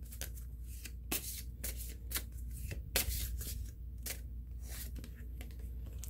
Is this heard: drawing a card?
yes